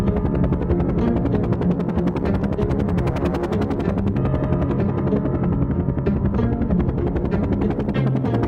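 A cartoon helicopter flies over the sea, its loud, steady rotor chop and engine drone running continuously and close throughout, with no voices.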